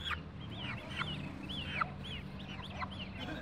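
Small free-range roosters at a market make repeated short chirping and crowing-like calls, several birds overlapping against a steady background murmur.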